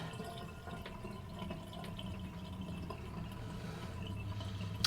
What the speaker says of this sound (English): Let's see how fast it drains.